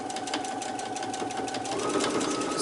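A sewing machine stitches a seam at a rapid, even pace, with a steady mechanical whirring and clicking that stays close and uninterrupted.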